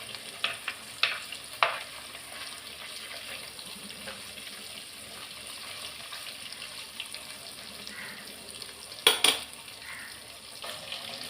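Fish frying in oil in a pan, a soft continuous sizzle with a few sharp clinks and taps of utensils scattered across it.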